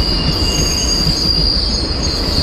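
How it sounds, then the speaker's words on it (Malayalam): Eranad Express train passing close by, a loud continuous rumble of rolling wheels with a sustained high-pitched wheel squeal over it, steady throughout and with no talk. "ഏറനാട് എക്സ്പ്രസ് ആണ് ഈ പോകുന്നത്."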